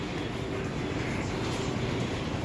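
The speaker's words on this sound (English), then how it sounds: "We have a 2 train right there." An R62 subway train on the 2 line at Flatbush Avenue–Brooklyn College station in Brooklyn gives a steady, loud rumbling roar that holds unchanged throughout.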